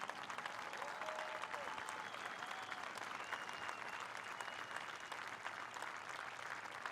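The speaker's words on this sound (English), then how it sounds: "Please give John and the entire Martin family a round of applause here." A stadium crowd at an oldtime baseball pre-game ceremony claps and cheers in a sustained, even roar that sounds distant and fairly faint, with no voices over it.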